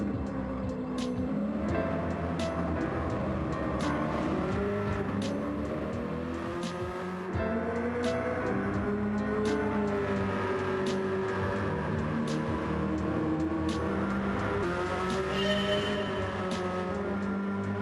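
A Lamborghini Urus SUV laps a race track, its engine droning loud and continuous with rising and falling revs through gear changes and a faint tire squeal, heard close throughout with no talking.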